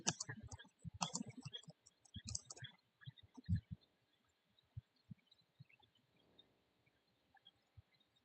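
Typing on a computer keyboard, quick bursts of light key clicks at first, then sparse isolated taps, fairly faint and close.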